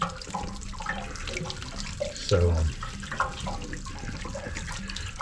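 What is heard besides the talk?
water draining out of RV water heater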